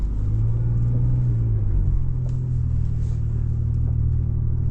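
A 2025 Ford Ranger Raptor climbs a steep slope in crawl mode with low range and both diffs locked, giving a steady, close, low engine rumble that rises slightly in pitch as it pulls.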